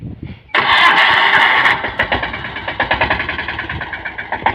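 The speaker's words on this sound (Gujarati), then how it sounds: "અમારા બે ભાઈઓ છે જો આ ટ્રેક્ટર શરૂ કરે અને હાંકવાનું છે" A tractor engine cranks and catches with a loud burst, then settles into a rough, steady idle with a rhythmic chugging pulse, close by.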